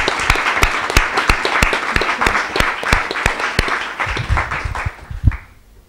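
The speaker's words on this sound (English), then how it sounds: "I want to give you an applause." Audience at an architecture lecture applauding after a reading, with loud, close clapping from a modest crowd that thins out and stops near the end.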